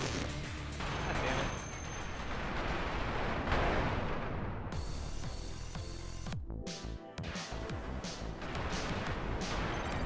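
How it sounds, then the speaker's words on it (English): Dense, rapid bullet fire from the shoot-'em-up game Blue Revolver pours out as a continuous loud barrage of crackling bursts and blasts, tightly layered with game music and effects. "Oh, that's the bullets!"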